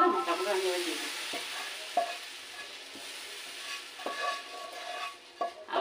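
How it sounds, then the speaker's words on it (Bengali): Spices tossed into hot oil for a papaya dal sizzle and fry steadily, with a few scraping stirs of a spoon in the pan, close by and moderately loud with no talking. "যে মশলাগুলো রেখেছিলাম মশলাগুলো আমি এবার দিয়ে দিচ্ছি"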